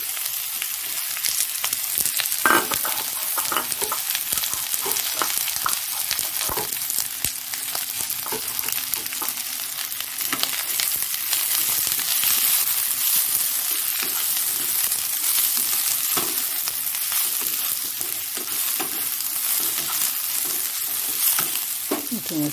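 Sliced onion frying in a pan for Bengali egg curry, a steady close sizzle with stirring scrapes throughout, loud and continuous without any talk.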